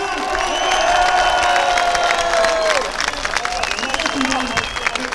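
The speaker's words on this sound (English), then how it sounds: "a massive round of applause!" A rally crowd in Rotherham breaks into loud sustained applause and cheering, dense clapping with whoops and shouts, while a voice carries over the top.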